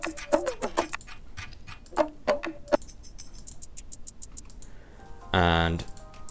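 Four layered percussion loops from Splice play as sparse, crisp clicks and taps in an uneven rhythm, ending with a brief, louder tonal burst.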